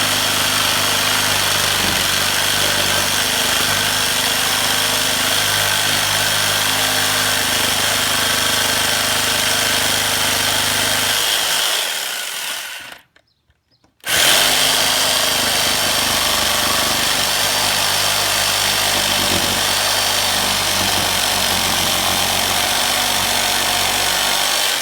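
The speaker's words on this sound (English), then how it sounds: "cut about 1/4 inch out of this corner so that I can get my blade in here and go around the curve" A power saw cuts a curve in wood for a pergola, making a steady loud whining drone that stops abruptly for about a second, then restarts and runs on with no talk.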